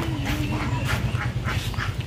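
Domestic ducks near a garden quack in a short, close, repeated run of nasal calls.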